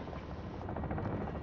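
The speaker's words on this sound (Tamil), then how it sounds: "Helicopter is behind it." A helicopter in the video game Warzone 3 Plunder mode gives off a steady rotor drone with a dense, rumbling chop, fairly faint and continuous throughout.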